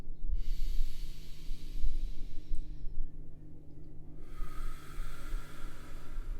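A long, deep breath drawn in through the nose during a somatic breathing practice, a soft airy rush that swells and then fades against a low steady hum.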